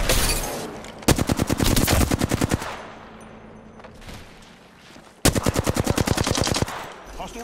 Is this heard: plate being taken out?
no